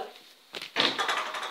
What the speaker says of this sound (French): J'ai juste fermé la porte, désolé pour le bruit.